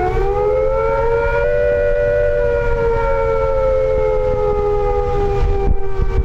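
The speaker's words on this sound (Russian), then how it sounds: "вы должны знать, как звучит предупреждающая сирена" A loud, sustained civil defense siren wails continuously at a steady pitch, dominating the scene with a constant low rumble beneath.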